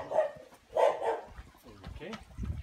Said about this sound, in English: we'll see if this dog's gonna bark at us.